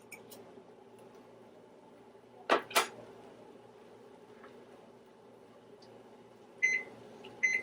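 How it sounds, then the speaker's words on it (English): A kitchen timer goes off while a pot of Rice-A-Roni with beef finishes cooking. Two short bursts of electronic beeps come near the end, after a couple of sharp utensil or lid clacks in a quiet kitchen. "there's the timer"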